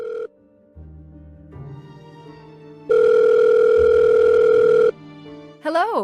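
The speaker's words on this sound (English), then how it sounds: "Find Stacy's contact and call her." Telephone ringing in the Agatha Christie: Murder on the Orient Express video game: steady electronic ring tones in separate bursts, with one long loud stretch in the middle, clear and close with no talk over it.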